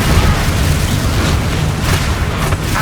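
A Descendo spell impact in Hogwarts Legacy, a dense, loud booming blast that rumbles steadily throughout with no pauses and no voices.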